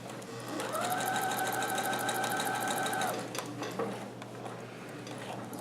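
A sewing machine stitches a Hawaiian shirt in a steady rapid run of about two and a half seconds, then slows and stops, leaving faint mechanical clicks and low room hum.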